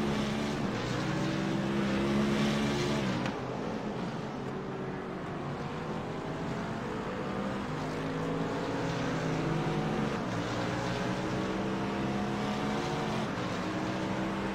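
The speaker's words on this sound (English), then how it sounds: "I can hear a car just to my right" A GT race car engine in the iRacing video game at Imola roars steadily, with rising and falling pitch sweeps as the car shifts through gears, loud and close, with no talking.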